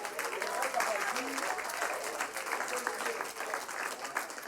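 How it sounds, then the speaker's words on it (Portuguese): A church congregation at a Revelation seminar applauds the Lord with a continuous, fairly soft wash of clapping from many hands, with some voices mixed underneath. "Se você puder aplaudir ao Senhor"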